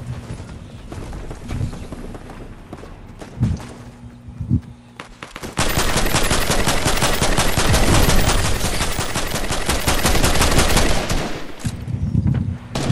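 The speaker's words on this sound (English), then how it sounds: "somebody shooting off grenades" Sustained burst of explosive gunfire and blasts from grenades being launched in the Fortnite video game, loud and dense for about seven seconds after a few scattered thumps.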